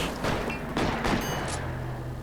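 A rapid burst of gunfire from a shootout in the detective video game L.A. Noire, several loud shots in quick succession over about two seconds, with no talking.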